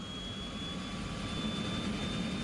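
The left turboprop engine of a Twin Otter starts up in Microsoft Flight Simulator, a steady whining hum with faint high tones, held at constant loudness with no talk.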